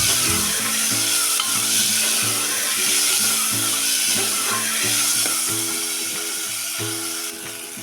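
Sprouted field beans (pavta) sautéed and stirred in a pan give a loud, steady sizzle, with a rhythmic low mechanical hum pulsing underneath throughout.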